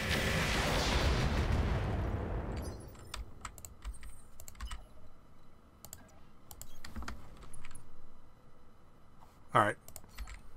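Mech weapons fire in the Roguetech battle game, opening with a loud sustained roaring burst of cannon and missile fire, then scattered clicking impacts and a sharp blast near the end.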